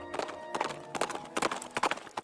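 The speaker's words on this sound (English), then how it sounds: "the ever-present clip-clop of those horse-drawn" Horse-drawn carriages roll across a cobbled medieval market square, the hooves clip-clopping in a brisk, irregular patter with a bright, hard ring, moderately close and steady throughout.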